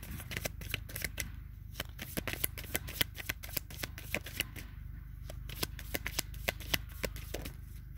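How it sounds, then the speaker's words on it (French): Tarot cards being shuffled by hand, a steady run of quick crisp riffling snaps and papery flutters, close and clear for the whole stretch with no talking. "Je vais voir si j'ai 2-3 cartes de tarot."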